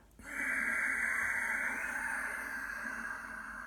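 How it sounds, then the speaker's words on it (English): A single long ujjayi exhale forced through a narrowed throat makes a breathy, resonant hiss that starts abruptly and fades slowly over several seconds, close and quiet with no talking. "as you do ujjayi breath, it'll sound like this."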